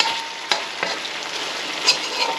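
Chicken pieces browning in hot oil in a pan for Filipino tinolang manok, a steady close sizzle and crackle with a few stir scrapes, no talking.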